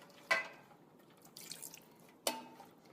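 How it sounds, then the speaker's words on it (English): Hot water is added to curry paste while making a prawn coconut curry: two faint, brief splashy drips about two seconds apart over quiet kitchen background. "just a little bit of hot water, just to get it going."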